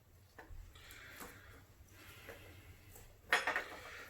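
A fork clinks against a bowl while onion rings are dipped into beer batter, with soft scrapes and light taps leading to a sharper metallic clatter near the end, close and moderately quiet.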